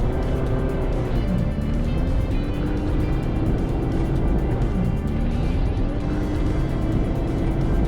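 A diesel Chevrolet Colorado ZR2 pickup with a wide fender kit and 35-inch tires drives along, a steady low engine drone and road rumble heard from inside the cab, with slight rises in pitch as it pulls.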